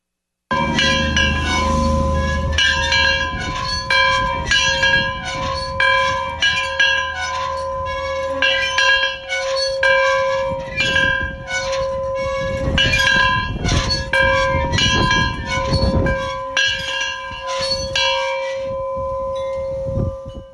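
A large bell rings out repeatedly in a steady, loud rhythm, its long ringing tones overlapping and sustaining throughout, with no voices present.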